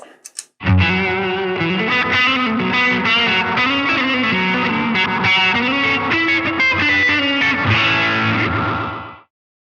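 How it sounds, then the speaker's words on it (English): Electric guitar played through a NUX Atlantic delay pedal, sustained chords with quick eighth-note repeats and a spring-reverb-like wash, loud and continuous, ending in a fading tail. "You can hear that's almost like a spring reverb tank on, on full."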